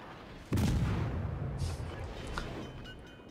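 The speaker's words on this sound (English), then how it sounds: "The Moskva shooting, keeping his rudder going." Heavy naval guns boom from the Moskva cruiser in World of Warships, one loud broadband blast followed by a rumbling decay and fainter later reports, with a commentator's voice underneath.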